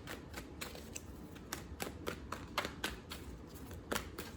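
Quick, papery riffling of tarot cards being shuffled, a run of soft rapid flicks at a quiet, close level.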